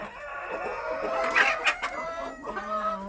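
A flock of farm chickens and roosters, including an old rooster, a golden rooster and a naked-neck hen, clucks and squawks close by, with overlapping calls and a short crow-like burst at feeding time.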